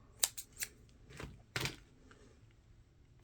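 Small scissors snip the leftover tail of beading thread while making a 3D beaded penguin ball, a few quiet crisp clicks and one or two louder snips, close up with no talking.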